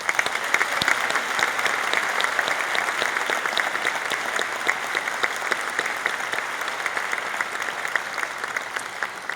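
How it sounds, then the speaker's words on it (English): An audience at a university talk at App State claps in sustained, dense applause that stays fairly even throughout the whole stretch, with no voices over it. "Please join me in another round of applause for Dr."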